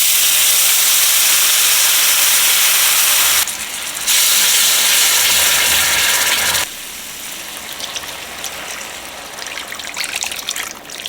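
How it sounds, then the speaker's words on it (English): Juices poured into a hot pan of turkey wings, a loud, steady steamy hiss and sizzle that drops back briefly, surges again, then settles into a softer crackling fry for the remainder, without speech. "Now we're going to add the juices."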